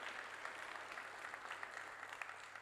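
Steady audience clapping fills a county board of supervisors meeting room, a continuous faint patter of many hands without pause throughout.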